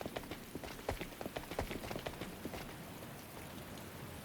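Steady rain pours down in a video game scene, a dense continuous patter with scattered sharper drops, no voices.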